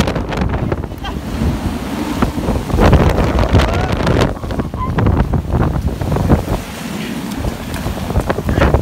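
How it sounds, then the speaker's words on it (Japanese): Strong typhoon wind batters Ishigaki on Ishigaki Island, a loud, continuous roar with heavy buffeting against the microphone and gusty surges throughout, no pauses. "現在、石垣市、台風直撃しています。"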